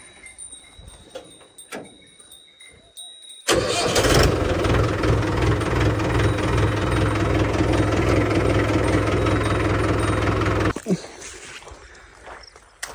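A farm tractor engine rumbles to life partway through, running loud and steady for several seconds before cutting back to quieter background noise.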